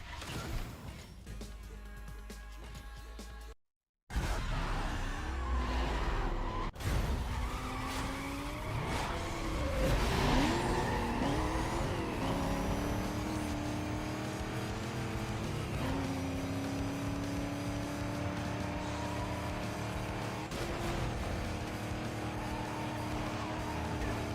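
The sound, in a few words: race cars in video game NFS Most Wanted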